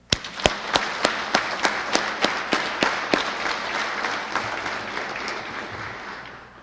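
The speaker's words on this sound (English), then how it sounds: "So let's give them a round of applause." Applause from the audience at a police bureau award ceremony, with a few loud, distinct, evenly spaced claps standing out near the front over a softer wash of crowd clapping that gradually tapers off.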